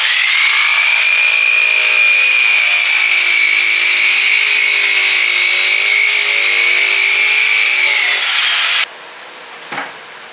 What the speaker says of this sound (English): You want to be pretty careful when you're sanding with the electric sander with 80 grit on the rail.